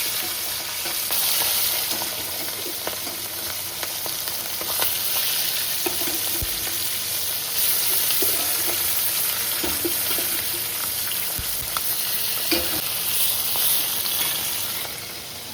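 A fish head rubbed with turmeric and salt fries in hot oil with a loud, continuous close sizzle and crackle, scattered spits and pops breaking through the steady hiss.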